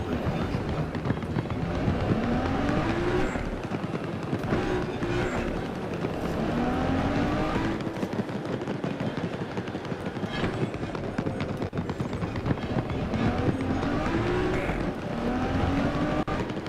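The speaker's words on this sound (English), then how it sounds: "Is there a war going on, or is this just what this engine sounds like?" A car engine in the video game Death Stranding drones on at a steady, rough rumble with rising and falling whine, moderately loud, with voices talking over it at times.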